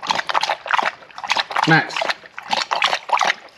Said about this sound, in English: do you have to be drinking water so loud?